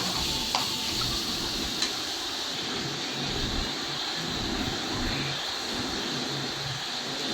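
Grated coconut and ladies finger sautéing in oil in a pan, a constant soft sizzle heard up close with a couple of faint utensil taps, no voices.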